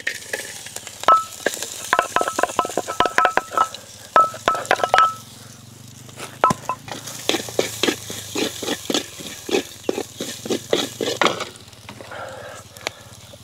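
Century egg and crispy holy basil ingredients stir-fried dry in a pan with only a little oil: loud crackling sizzle in bursts, with the clatter and scrape of a spatula stirring, no talk over it.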